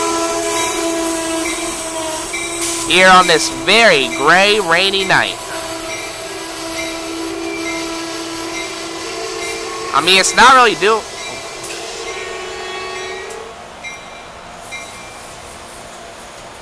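A Keystone push-pull train on a gray, rainy night, running with former Metroliner cab car 9649 and an AEM-7 electric locomotive, rumbles past steadily while its horn sounds in two loud blasts of short honks; someone talks nearby.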